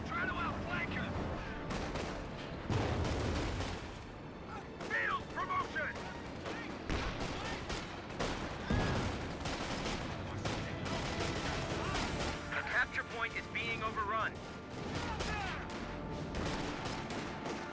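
Tank cannon and gunfire in Company of Heroes 2, with heavy booming shots and rattling fire from Sherman, Firefly and Panzer IV tanks, dense and continuous with repeated loud blasts under a commentator's voice.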